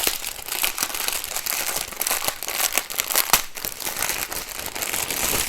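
Plastic packaging from a diamond painting kit crinkles and crackles continuously up close as it is pulled open, loud and busy with sharp snaps scattered through it and no voices.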